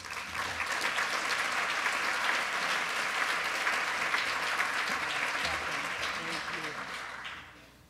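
An awards-evening audience applauding to welcome a presenter to the stage, loud, dense sustained clapping for about seven seconds before tapering off at the end.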